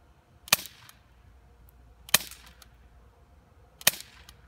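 Three sharp, snappy shots from a Bear River BOA semi-automatic CO2-powered BB pistol, spaced about a second and a half apart, each a crisp crack with a quick tail and quiet room tone between.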